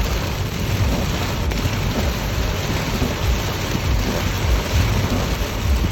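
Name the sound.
hail and rain falling during a storm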